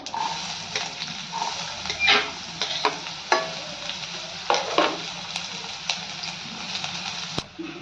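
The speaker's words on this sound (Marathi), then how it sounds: "तेल गरम झालं की थोडंसं फोडणीमध्ये जिरं जिरं छान फुललं घालून घेऊयात बारीक कट केलेला कांदा" Continuous sizzling of finely chopped onion frying with cumin seeds in hot oil, with occasional sharp crackles and pops, heard up close and fairly quiet.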